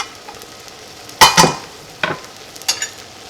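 Cooked banana is moved into another vessel with a few sharp metallic scrapes and clinks of a utensil against the pot, two quick strokes followed by two softer ones, in an otherwise quiet kitchen.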